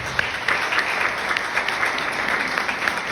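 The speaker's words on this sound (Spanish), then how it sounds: "Un fuerte aplauso a mi amada esposa." A church congregation gives a strong round of applause for the pastor's wife, a dense, even wash of clapping that stays loud and steady throughout without speech.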